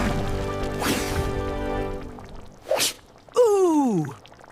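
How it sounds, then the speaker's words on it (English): A person sneezes after shaking too much black pepper into a chili dish in a family kitchen. A loud single sneeze bursts out near the mic, and a voiced exclamation follows at once. "Achoo!"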